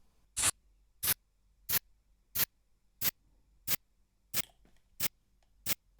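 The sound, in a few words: spray hiss sample pitched up 18 semitones as hi-hat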